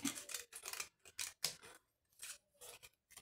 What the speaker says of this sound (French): Je vais le couper un petit peu plus fin